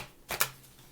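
Tarot cards being shuffled by hand, two quick riffling bursts close by in a quiet room, with no talking.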